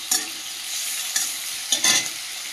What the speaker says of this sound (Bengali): পেঁয়াজটা ভাজা ভাজা হয়ে গেছে, এর মধ্যে দিয়ে দেবো চিংড়ি মাছ